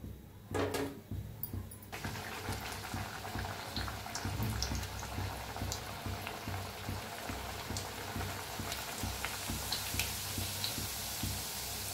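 Tomato puris deep frying in hot oil, a dense steady bubbling sizzle that runs continuously after a brief clatter at the start, close and fairly loud, with no talking.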